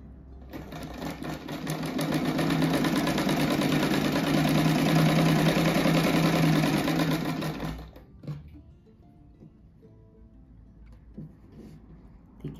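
A sewing machine stitches a simple rug in a steady, loud, whirring run for about seven seconds, then stops abruptly, leaving faint handling noises.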